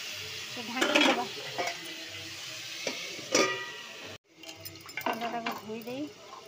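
Potato and tomato sizzling in hot oil in a pan, faint frying crackle with occasional stirring clinks, under someone talking in Odia.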